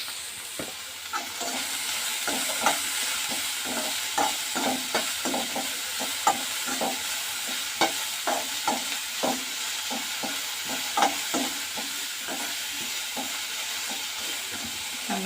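Onion pieces and green chilies fry in a pan with salt, giving a steady bright sizzle broken by frequent clicking scrapes of a spatula stirring close by, with no talking.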